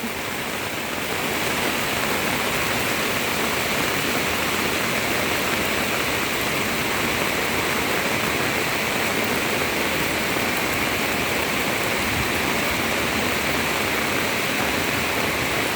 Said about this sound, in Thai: น้ำเยอะมากค่ะ ไหลเป็นแบบนี้เลย